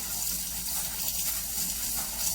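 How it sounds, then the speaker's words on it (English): Rice being rinsed in a sieve under running water, a steady close gushing wash with broad hiss and no talk. "we're just going to wash our rice until it's clear."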